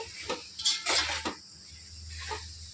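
Chicken dum biryani tossed with a bunch of fresh coriander in a pot, giving a few short clanks and scrapes of a utensil against metal, with quiet gaps between the stirring strokes.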